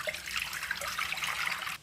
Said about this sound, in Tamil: இந்த புளி தண்ணியை ஊற்றிடலாம்.